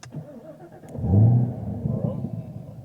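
A Camaro ZL1 engine cranks and catches with a deep growling rev that swells and then drops back to a burbling idle, with faint voices nearby.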